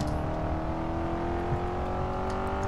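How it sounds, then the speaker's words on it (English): A race car engine in the Grid 2 racing game drones steadily and loudly at a constant pitch for the whole stretch, with no voices over it. "If the engine sounds are drowning the voice."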